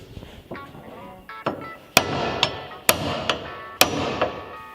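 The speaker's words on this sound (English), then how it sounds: "So I think we should be able to just hammer this barrel out now." Metal hammering on a stuck rear axle barrel of a Firebird: several hard, ringing blows spaced about a second apart, loud and close, with scraping between strikes.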